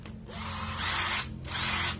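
A Japanese-made Makita cordless drill whirs up close with a high, steady motor whine. It pauses briefly at the midpoint, then spins up again.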